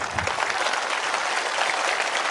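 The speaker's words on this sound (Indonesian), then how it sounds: "ayo tepuk tangan dulu" An audience claps together during a religious lecture, a dense, steady patter of applause that is moderately loud and continuous, with no clear voices.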